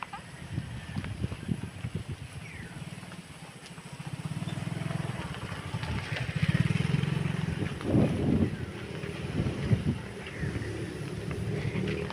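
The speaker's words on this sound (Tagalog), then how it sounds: "May motor." A motorcycle engine passes along a rural road beside a cornfield, its drone rising and falling over several seconds amid wind noise on the microphone.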